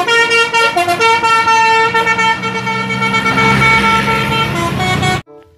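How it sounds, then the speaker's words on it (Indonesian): A toy telolet bus plays its melodic multi-tone horn, a loud, continuous musical honking with shifting pitches for about five seconds before cutting off abruptly. "Mobil bus telolet, teman-teman."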